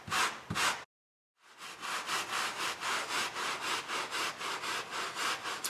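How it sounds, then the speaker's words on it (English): A scrub brush works foaming odor-removing cleaner into a car's interior, giving steady rhythmic back-and-forth scrubbing strokes, close and fairly loud, after a brief rub and a short silent gap. "you can take your scrub brush and just gently agitate the formula"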